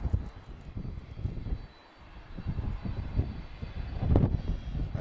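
Star Air jet with two CF6 engines departing, a low rumbling engine roar at a distance, fluctuating and building slightly toward the end without any voices.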